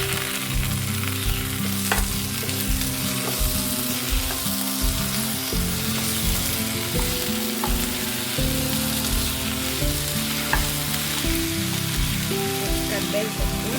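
Ridge gourd pieces and tomato sauté in a pan over a low flame, giving a continuous soft sizzle and occasional stirring taps beneath steady tonal background music.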